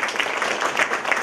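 An audience at an inauguration applauds, a brief, even wash of many hands clapping together, fairly soft and steady throughout.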